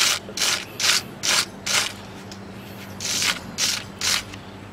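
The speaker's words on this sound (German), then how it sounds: "Machen hierzu, wie immer, ein bisschen das Gewinde sauber, damit die Schraube auch wirklich wunderbar ohne Komplikationen dort wieder reingeht." Cleaning the screw thread on the front brake carrier of a Renault Twingo gives rhythmic bursts of rubbing and scraping, about eight strokes in a row, close and fairly loud, with no talking.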